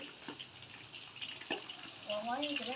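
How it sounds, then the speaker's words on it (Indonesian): Fish fries in a pan, giving a faint, steady sizzling hiss with a few small pops. A voice comes in near the end. "Yang goreng iwak."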